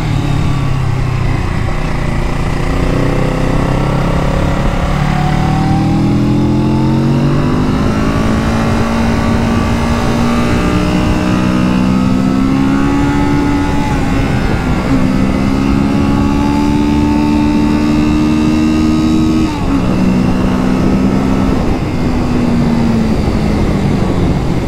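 A 2022 Kawasaki Z650 RS motorcycle engine pulls loudly and steadily while riding, its pitch climbing through the revs in several long rising sweeps with brief dips at gear changes, close and continuous under wind rush.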